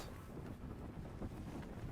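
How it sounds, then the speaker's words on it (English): Steady low rumble of wind buffeting the microphone, constant and blustery throughout with no voices. "it's kind of windy. I don't know if you can hear it."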